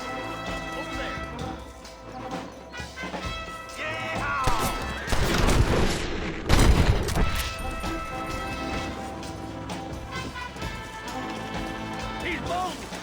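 Red Dead Redemption gunfire in a shootout in Armadillo cracks over a music score, with a cluster of loud sharp bangs near the middle among fainter shots and clatter, and voices talking throughout.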